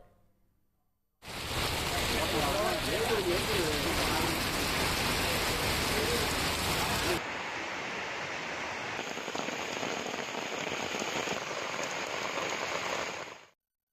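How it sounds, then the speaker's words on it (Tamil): Heavy summer rain in Tamil Nadu, India, pours steadily in a dense, loud wash, easing slightly partway through before stopping. "சுமார் ஒரு மணி நேரம் கனமழை கொட்டி தீர்த்தது"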